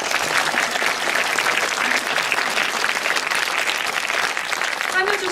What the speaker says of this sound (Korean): 그럼 이세 분께 응원의 박수 부탁드리겠습니다.